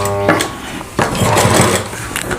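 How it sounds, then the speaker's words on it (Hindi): Overlock sewing machine stitching together the panels of a Rajputi suit; loud, close mechanical whirring in short bursts with a brief pause and restart, and a faint voice in the background. "अब ओवरलॉक कर देंगे तो ये हमारी कली जुड़ जाएगी"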